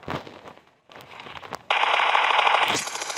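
Automatic weapon fire in the mobile game PUBG Mobile, with short bursts of rapid shots followed by a dense sustained volley, loud and close with no talk.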